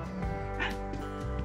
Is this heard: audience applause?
no